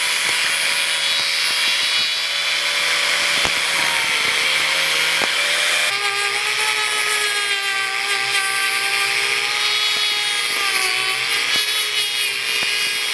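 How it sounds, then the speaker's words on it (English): A carbide angle grinder wheel cutting through a shoe sole, a loud sustained high-pitched whine with a grinding rasp that shifts pitch as the load changes, steady and close throughout. "The angle grinder blade, it is just melting the shoe."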